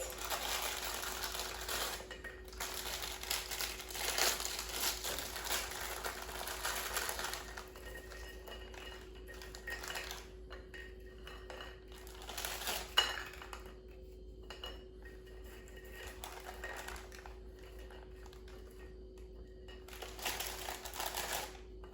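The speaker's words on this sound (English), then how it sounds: "we just start by putting Ritz crackers on a plate" Ritz crackers set down one by one on a plate, light clicks and taps coming in quick clustered bursts with short pauses, close and quiet over a faint steady hum.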